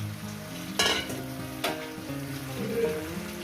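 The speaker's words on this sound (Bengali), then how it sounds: "পুঁই শাকের পাতাটা দিয়ে এটা আমি কষতে থাকবো" Malabar spinach leaves sauté in a pan with fish head and pumpkin, a steady close sizzle broken by two sharp stirring scrapes of a utensil.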